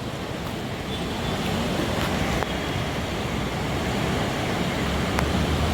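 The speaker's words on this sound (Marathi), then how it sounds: "इथं पाणी वाहतोय कसं बघा." Water flows strongly in an outdoor stream where people bathe, a loud, continuous broadband rush with some wind, and no voices.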